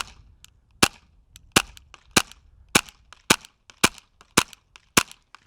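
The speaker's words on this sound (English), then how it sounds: "So in today's shooting test for all the airsoft guns, we got a little bit of a weird distance." Airsoft rifles fire at a shooting range with targets some 170 feet downrange, sharp single cracks spaced at a steady rhythm of about one every half second to second, close and loud, with faint clicks between shots and no talk.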